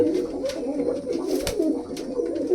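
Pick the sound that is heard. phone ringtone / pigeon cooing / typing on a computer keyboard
pigeon cooing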